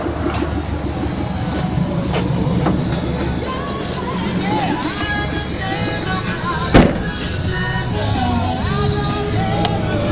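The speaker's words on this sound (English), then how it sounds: "Let's give her some revs." A Subaru Legacy's 155-horsepower boxer engine idles then revs up and settles, with a steady low rumble throughout and a sharp brief knock partway through.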